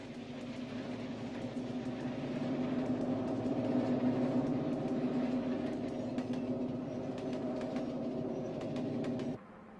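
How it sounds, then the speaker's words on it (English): A model Lehigh Valley John Wilkes streamlined passenger train rumbles around a bend on a layout, a steady low whirring hum with faint clicks that swells a little midway and then cuts off sharply near the end. "the Lehigh Valley streamlined John Wilkes passenger train roars around a bend"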